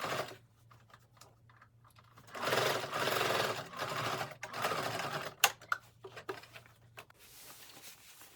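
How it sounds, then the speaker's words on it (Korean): A sewing machine stitches the outer fabric of a padded coat with a 2 cm seam allowance, running in several bursts of rapid mechanical chatter separated by short pauses and small handling clicks. "지금 이 부분에 시접은 2cm 정도 남겨놓고 바느질을 합니다"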